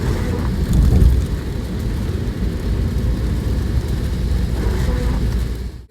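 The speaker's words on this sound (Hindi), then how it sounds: "दिल्ली में बहुत बारिश हो रही है" Heavy rain drums steadily on a moving car on the road from Delhi, a loud dense wash mixed with road noise, fading out at the end.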